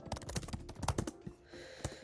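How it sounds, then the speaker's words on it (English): Rapid computer-keyboard typing, a fast run of crisp key clicks with uneven rhythm, close and moderately loud, with a few heavier keystrokes and a faint steady background hum near the end. "as you're typing, man, look how fast you type"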